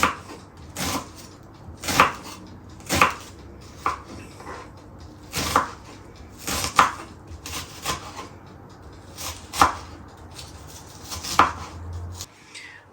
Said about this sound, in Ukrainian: я чверть кільцями ріжу цибульку